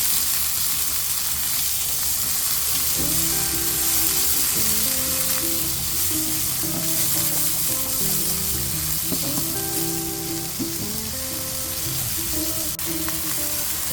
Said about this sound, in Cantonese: 爆香之後落我哋出過水嘅毛豆同埋甘筍，